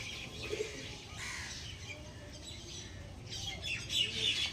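Andhra-bloodline pigeons at a pigeon sale coo softly, with scattered faint chirps over a steady background hiss.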